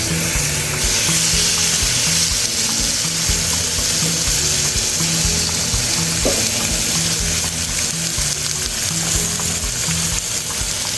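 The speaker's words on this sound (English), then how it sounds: "We want to hear the sizzling." Steak sizzles steadily in a hot skillet of garlic-infused olive oil, a loud, continuous frying hiss with faint crackles that holds evenly throughout, and no voices are heard.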